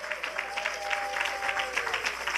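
A church congregation applauding and cheering in praise of God, a sustained wash of clapping with scattered voices over a faint held tone.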